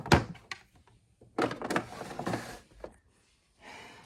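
A makeup vanity drawer slides open with a few short thumps and a rolling rumble, followed by softer sliding and clattering noises nearby.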